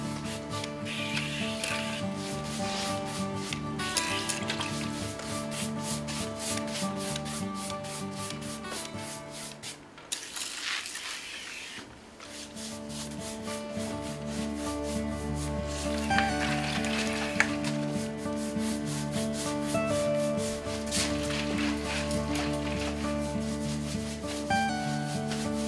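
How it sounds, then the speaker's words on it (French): A spalter brush works rust-effect activator over a surface, making a steady, close scratchy rubbing with repeated strokes that runs almost continuously, broken by a short pause midway. "Pulvérisez l'activateur par petites surfaces et spaltez immédiatement pour"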